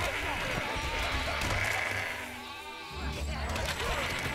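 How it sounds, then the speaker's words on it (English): Sheep bleating in the video game Overlord, a few wavering bleats that rise out of a busy mix of game noise, with a person talking through it. "Kill all the sheep."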